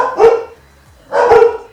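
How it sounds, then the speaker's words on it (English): A pet dog named Jax gives two sharp, loud barks close by, spaced about a second apart, with quiet in between. "barking thing with all the dogs in the neighborhood"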